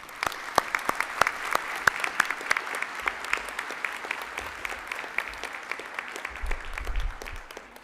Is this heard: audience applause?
yes